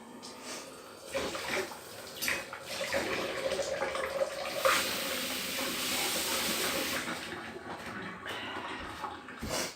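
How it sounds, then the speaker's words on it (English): Water runs steadily from a kitchen tap as a knife is rinsed while cooking a winter casserole, a continuous close hiss with faint clinks, no talking. "Just wash the knife."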